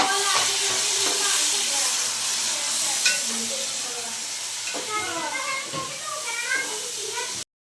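Chopped tomatoes are tipped into onions frying for a fish salan in a village kitchen, giving a steady hissing sizzle throughout while a voice talks over it.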